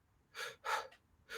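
Sharp breaths drawn in through the mouth as a demonstration, three distinct gasping inhales with a short pause between them, close and fairly quiet.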